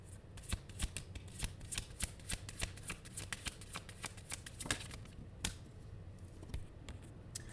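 Tarot cards being shuffled by hand for a reading, a quiet, close flurry of rapid flicks and riffling snaps that goes on steadily with no talk.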